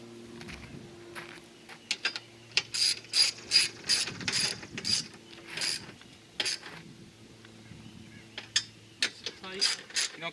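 Ratchet wrench tightening strut tower brace nuts on a 2021 Toyota Camry TRD, heard as bursts of quick metallic clicking strokes, close and moderately loud, with pauses between runs.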